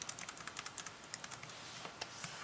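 Computer keyboard keys pressed for a Ctrl+J shortcut while working in Photoshop, heard as a quick run of light, close clicks and taps in an irregular rhythm over a faint background hiss.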